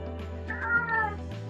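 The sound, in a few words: cat meowing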